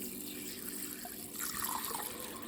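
Water being poured into a glass bowl of sea moss, a soft continuous trickling and splashing nearby that swells slightly toward the end, with no talk.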